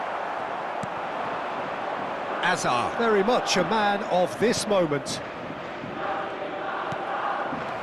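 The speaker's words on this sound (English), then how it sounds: "the crowd are reacting to that now" Stadium crowd in an eFootball 2026 division match gives a continuous roaring murmur underneath, while a commentator talks over it for a few seconds in the middle.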